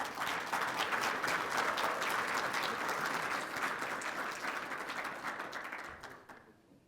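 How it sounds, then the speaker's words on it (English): Sustained applause from a seated audience at a National Guard birthday ceremony at Camp Robinson, Arkansas, steady and dense, then tapering off over several seconds with no voices. "Please join me in recognizing these outstanding citizens with a round of applause."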